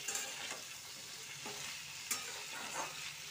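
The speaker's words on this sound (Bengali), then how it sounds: "নুন হলুদ দিয়ে একটু নেড়ে চেড়ে নিলাম" Mashed taro paste with salt and turmeric is being stirred in a hot pan, a soft, quiet sizzle with a few light scrapes and knocks from the spoon.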